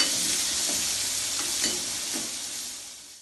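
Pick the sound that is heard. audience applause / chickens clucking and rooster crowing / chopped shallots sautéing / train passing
chopped shallots sautéing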